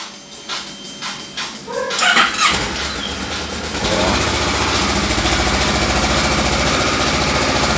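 A Kawasaki ER-6n motorcycle engine, unused for a while, cranks with a sharp whir and catches, then settles into a steady, loud, rumbling idle that runs on without a break.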